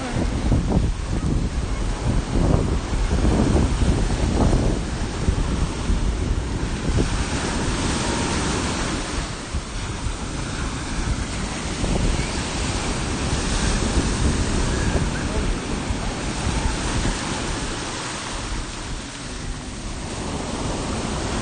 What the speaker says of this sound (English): Looking at the ocean.